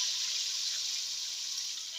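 Ground masala and tomato-onion paste frying in hot oil, giving a loud, steady hiss and spatter with no breaks, heard close up and alone.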